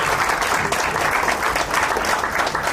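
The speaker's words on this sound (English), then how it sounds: "So big round of applause for her." An audience at a company's fifteenth-anniversary celebration gives a big round of applause, dense, continuous clapping that fills the room evenly for a few seconds with no speech over it.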